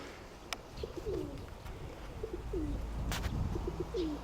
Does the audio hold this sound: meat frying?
no